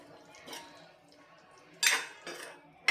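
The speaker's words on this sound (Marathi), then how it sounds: "हा ताजा मटार ह्यामध्ये घालून घेते मस्त मिक्स करून घेऊयात" Fresh green peas are stirred into masala in a pan, a few distinct clinks and scrapes of a spoon against the pan over a quiet background.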